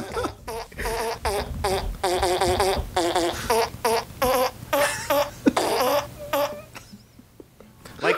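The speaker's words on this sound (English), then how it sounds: "doing like a fart piano solo" Fart noises played as a melodic piano-style solo, a fast run of pitched, buzzy bursts that rise and fall in short phrases. The notes sound close and loud, then end abruptly in near silence.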